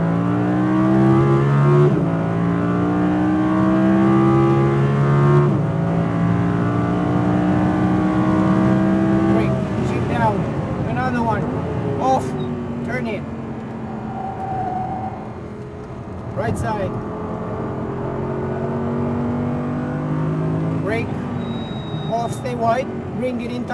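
Audi R8 V10 RWD engine on a race track, its tone climbing and falling through repeated acceleration and shifts, loud and close, with an instructor's voice talking over it at intervals.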